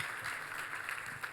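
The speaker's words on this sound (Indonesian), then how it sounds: "Kita kasih tepuk tangan yang meriah buat Tuhan" A church congregation gives a brief, fairly quiet burst of applause with no voices over it, a soft wash of many hands clapping together.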